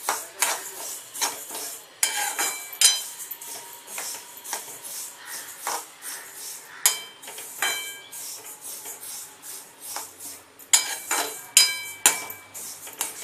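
Sesame seeds dry-roasting in a pan, a spatula scraping and clinking against metal in irregular repeated strokes, with crisp crackles between the stirs.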